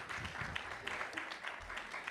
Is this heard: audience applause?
yes